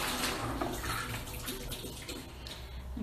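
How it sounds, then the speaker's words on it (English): Tap water runs steadily as hands are washed at a sink, giving a continuous splashing rush close by for a few seconds with no talking. "Just going to wash them quickly."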